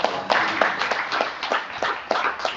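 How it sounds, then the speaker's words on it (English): Clapping at a cyber security awareness meeting, a brief round of hands in a room with distinct, fairly regular claps over a dense background patter, moderate in level and fading slightly. "And also a round of applause for Mr."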